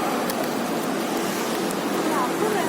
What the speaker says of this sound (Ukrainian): Там море.